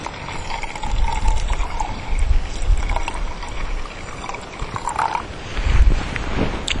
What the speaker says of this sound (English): I'm going to fill it up about probably halfway with water